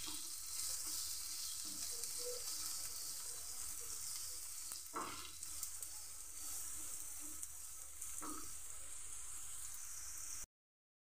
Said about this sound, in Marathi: चांगला परतून घ्यायचं सगळं.